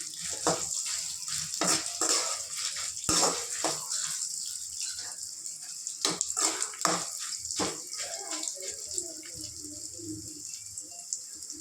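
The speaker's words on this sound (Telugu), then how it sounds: "మాడకుండా లైట్ బ్రౌన్ కలర్ వచ్చే వరకు వేయించుకోవాలండి." Ingredients for ridge gourd tomato chutney fry in a pan with a steady bright sizzle, broken by sharp scraping clicks of a spatula stirring; no one speaks.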